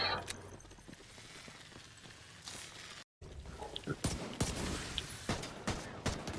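Pistol gunfire from a Division 2 firefight, with irregular sharp shots in scattered bursts over mechanical clatter and game ambience, moderately loud and close.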